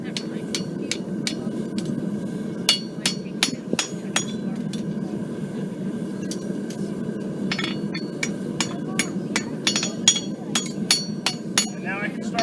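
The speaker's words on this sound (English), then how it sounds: "this just takes the shape of the anvil as I hit it" A farrier hammers a heated horseshoe on an anvil, producing a series of sharp, ringing metallic strikes in uneven rhythm, close and clear over a low background hum.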